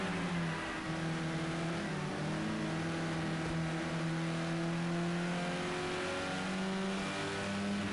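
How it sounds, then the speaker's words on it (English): Touring cars race at Snetterton circuit, several engines droning and shifting pitch together as they pass, a loud, continuous layered roar with no talking. "Proper touring car action going on now."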